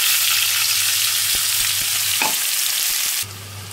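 Ground spice paste frying in oil, a loud, dense close sizzle with a few sharp stirring clicks, easing slightly near the end.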